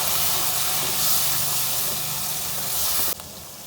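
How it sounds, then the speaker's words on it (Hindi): Ground coriander, red chilli powder, turmeric and salt fry in the oily masala for a dhaba-style keema, giving a loud, steady, close sizzling hiss that cuts off abruptly near the end. "अब इसको भी भून लेते हैं मसाले में"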